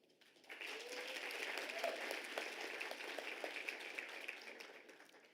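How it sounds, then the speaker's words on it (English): An audience applauds graduates at a university autumn graduation ceremony in South Africa, a broad wash of clapping that swells after a brief quiet start and holds steady and full across the hall. "Let us take the moment to applaud our graduates"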